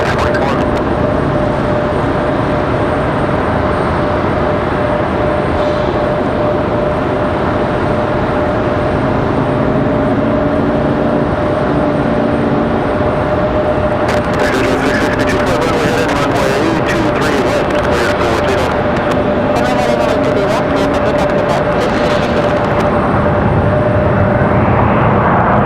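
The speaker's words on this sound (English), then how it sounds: "American 1897 coming in from Charlotte, another A321 on final" An American Airlines Airbus A321 airliner on final approach to Raleigh-Durham International Airport, a steady sustained engine roar with a whining tone that grows slightly louder over time, with people talking faintly underneath.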